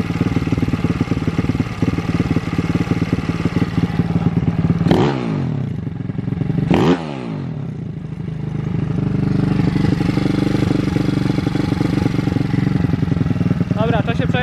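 An MRF 170 RC pit bike engine runs loud and close with rapid raw firing, revving up sharply twice in quick blips before settling back to a rough, steady idle.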